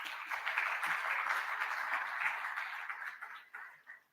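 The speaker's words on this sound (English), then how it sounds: "A round of applause for that, please." An audience at a book launch applauds in a sustained, fairly faint round of clapping that holds steady for several seconds before thinning out and trailing off at the end.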